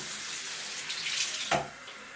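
Tap water running steadily into a sink to wet hair for a high ponytail: a continuous hissing flow, then a brief splash as the stream is disturbed.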